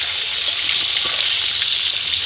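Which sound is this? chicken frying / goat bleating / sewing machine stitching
chicken frying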